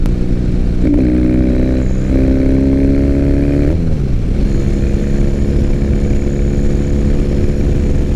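A 2006 Triumph Bonneville with cafe bars rolls down the road, its engine droning loud and close with steady harmonic tones that shift as it changes speed partway through, wind noise constant.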